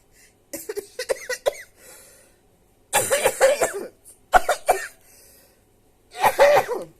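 Several bouts of harsh coughing from a sinus infection, close up, with short pauses between the fits.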